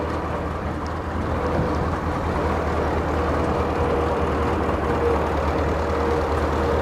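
A tractor engine drones steadily and loudly up close as it rolls through a village, with a continuous low rumble and no talking.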